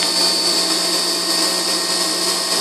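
An Emco Compact 5 CNC lathe takes 0.5 mm cuts while machining a model engine backplate, a loud, steady mechanical whine with a continuous tonal hum throughout.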